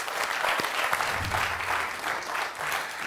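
Studio audience applause on a Georgian comedy game show, a steady wash of clapping filling the whole stretch at close, even loudness with no voices over it.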